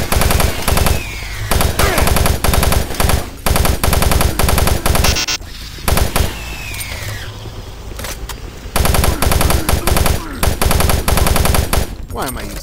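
Automatic gunfire on zombies in Doom 3, long loud rattling bursts broken by brief pauses, with a stretch of quieter game sounds in the middle before the firing resumes.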